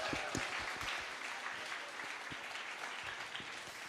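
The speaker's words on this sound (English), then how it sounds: "We keep the applause going." Steady applause from a conference audience at a closing plenary session, a dense continuous patter of many hands clapping at even loudness throughout, with no voices standing out above it.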